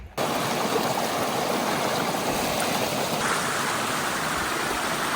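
Steady rushing water from a waterfall close by on the Pacific Crest Trail between Lake Morena and Mt Laguna, a continuous broadband roar with no voices.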